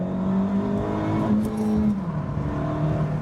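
Honda Civic Si engine revving hard, a rising and falling rough drone that climbs in pitch, then drops with a shift, continuous and close.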